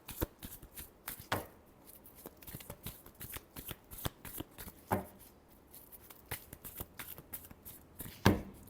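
Tarot cards being shuffled by hand, a close run of crisp riffling and slapping bursts with a few sharper snaps, moderately quiet and without talk.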